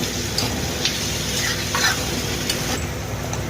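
Onions and slit green chillies fry and sizzle steadily in a pan, with spatula stirs and scrapes through the sizzle, close and fairly loud, while preparing semolina upma.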